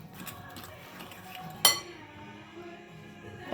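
A single sharp clink of a utensil against a bowl while mixing tilapia fish ball ingredients with carrots and breadcrumbs, heard amid soft low scraping and stirring noises.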